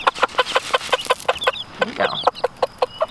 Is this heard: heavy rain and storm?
no